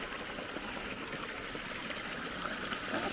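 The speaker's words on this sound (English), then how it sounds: "Nice water source here in the desert." A small desert stream near Hauser Creek and Lake Morena trickles and babbles steadily, a soft, continuous flow of water close by with no voices.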